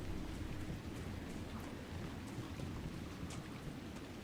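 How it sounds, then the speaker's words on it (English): Steady rain ambience with low rumbling thunder, a dense wash of drops heard faintly and continuously with no voices. "I always have, like, some sort of rain YouTube video playing."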